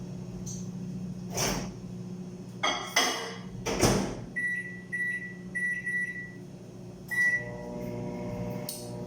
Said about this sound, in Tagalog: Initin ko lang sa microwave.